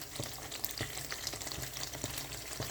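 Eggs going into a thick masala frying in a pan, a soft, even crackle with light stirring taps and small pops, fairly quiet and with no one speaking.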